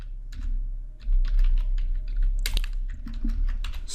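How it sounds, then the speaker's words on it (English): Fast typing on a computer keyboard, with bursts of clicky keystrokes across the whole stretch and a few sharper key presses, heard close and alone. "So type in extract"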